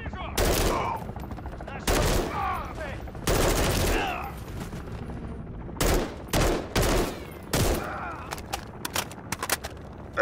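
Turret gunfire in Call of Duty: Modern Warfare III rattles out in several loud, sharp bursts of rapid automatic shots, separated by brief pauses and scattered single cracks.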